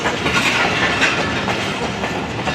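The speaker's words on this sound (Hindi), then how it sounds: "तो जी 5:12 पर ट्रेन हमारी रोडी जंक्शन अप्रोच बना रही है" Loud, continuous rumble and clickety-clack of the Shalimar Express passenger train running on rails in Pakistan, heard close from on board with steady wheel noise and no talk.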